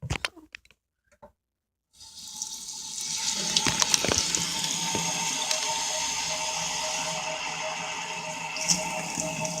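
Tap water runs steadily into a glue bottle after a few soft clicks and handling noises, a close, continuous splashing rush with no talk.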